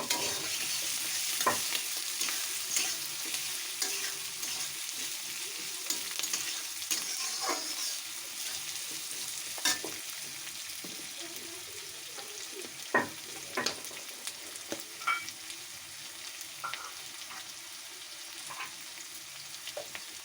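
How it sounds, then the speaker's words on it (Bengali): Onions fry in oil over a high gas flame while being stirred, giving a steady bright sizzle with scattered scraping clicks from the spoon, close and continuous with no talking. "গ্যাসের ফ্লেমটা হাইতে রেখে পেঁয়াজগুলো লাল করে ভেজে নিতে হবে।"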